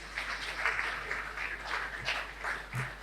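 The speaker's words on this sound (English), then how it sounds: "Please, a round of applause." Modest applause from an audience at a panel discussion on Nigeria's economy, after a panelist's introduction; light, scattered clapping heard somewhat distantly over a low steady hum.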